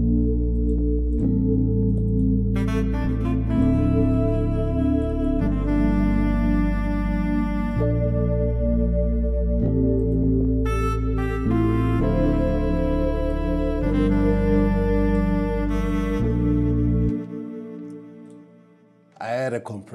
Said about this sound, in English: It's just the first one inside Essential Bass Guitars.